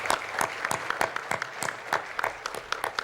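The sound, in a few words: audience applause for the trustees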